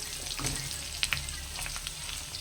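Pork belly frying in plenty of oil is stirred, giving a steady bright sizzle with a couple of quick utensil clinks partway through, close and continuous.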